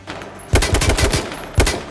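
Video game gunfire: rapid bursts of shots with bullets striking a vehicle, a dense rattling volley followed by a second sharp burst near the end, close and loud with no talking.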